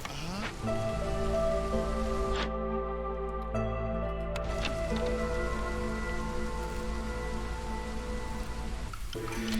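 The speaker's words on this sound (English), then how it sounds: "now that we're in the drizzle" Steady drizzle patters across the ground in the colony-building game Against the Storm, a soft, even hiss of rain holding at moderate volume with a brief dip partway through, no voices over it.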